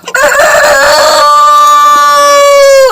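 A new Cochin rooster crows once, a loud, sustained call held for close to three seconds and heard alone.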